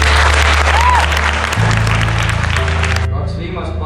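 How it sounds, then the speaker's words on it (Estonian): Audience applause for all the couples at a song and dance event with teachers, a dense, loud burst of clapping that continues steadily under a voice and tails off toward the end. "Et aplaus kõigile veel."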